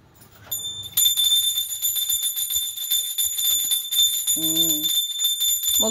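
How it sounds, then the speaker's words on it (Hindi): A bell rings continuously with a bright, sustained metallic tone and rapid clattering strikes, loud and close, with a short sung voice partway through. "आई घंटी बजाऊ न"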